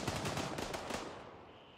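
Rapid automatic gunfire in the video game Gray Zone Warfare, a quick burst of rattling shots at moderate volume that fades into a noisy tail.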